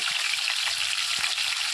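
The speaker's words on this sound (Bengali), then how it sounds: "এবারে তিন থেকে চার মিনিট মিডিয়াম আঁচে রেখে ভেজে নিতে হবে" Fish frying in a pan over medium heat, a dense, even sizzle that holds steady throughout, with a couple of soft clicks.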